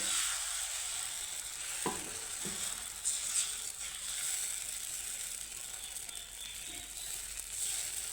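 Spoonfuls of batter sizzle steadily in a hot pan while making an oil-free snack, a continuous close hiss broken by a few soft scraping clicks, with no talking.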